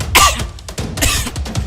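A person coughs a few times in quick succession, close and loud, with short harsh bursts separated by brief pauses.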